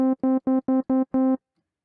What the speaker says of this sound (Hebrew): עכשיו, בואו נכניס פילטר אל low pass 4,